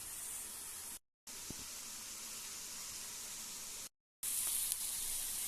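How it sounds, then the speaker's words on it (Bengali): Loté fish fingers sizzle as they fry in hot oil in a home kitchen, a faint, even crackling hiss interrupted by two brief silent gaps. "মাছটাকে ভাজা ভাজা মতন করে কষাতে হবে।"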